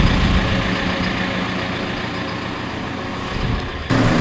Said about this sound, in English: We'll pull the skid steer out here.